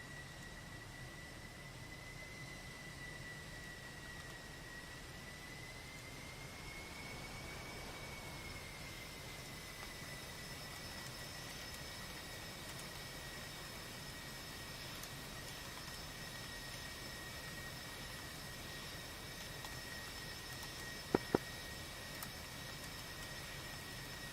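Jet airplane engine noise from the combat flight game DCS World plays as a steady, even drone with a sustained whining tone, low and unchanging, with no voices over it.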